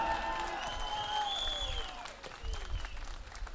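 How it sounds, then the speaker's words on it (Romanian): An outdoor crowd at a Christmas fair concert in Buzau claps and cheers for several seconds, with sustained tones from the stage ringing over the applause. "vreau aplauzele noastre!"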